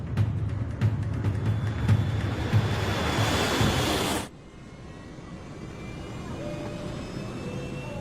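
Germanwings airliner on flight 9525 accelerating down runway 07 right for a routine morning takeoff: a loud, steady broadband roar fills the first half, then cuts off abruptly, leaving a quieter hiss.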